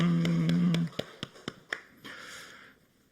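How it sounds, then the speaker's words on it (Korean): A church congregation at a Sunday service claps for God after a hymn: a sustained tone cuts off, and a handful of distinct, evenly spaced claps follow, then a short burst of softer clapping and murmuring voices that trails away. "살아계신 하나님께 영광의 박수 올려드리겠습니다."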